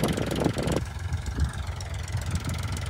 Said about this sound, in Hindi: चला रहा है ट्रैक्टर